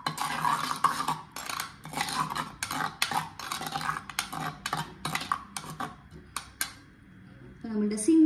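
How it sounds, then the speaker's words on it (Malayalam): A spoon stirs crushed green chilies, ginger and salt into curd for an Onam sadya ginger-curd dish, making a quick run of scraping, clinking taps against the bowl. The taps are irregular, with a voice talking over them. "3 പച്ചമുളക് ചതച്ചത്, ആവശ്യത്തിനുള്ള ഉപ്പ്, നന്നായിട്ട് യോജിപ്പിച്ച് കൊടുക്കാം"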